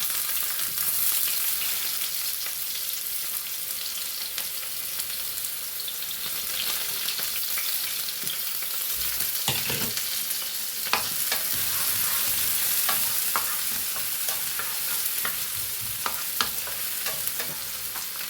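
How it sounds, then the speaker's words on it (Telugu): Onions frying in a pan for a Telugu soya-leaf tempering, a steady close sizzle throughout with scattered clicks and scrapes of stirring, no talking. "చూడండి, ఉల్లిపాయలు వేస్తున్నాను."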